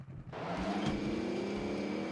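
A steady engine drone with a sustained tone rises in after a brief quiet start, continuing loud and even like a car running, in the video game Call of Duty: Warzone.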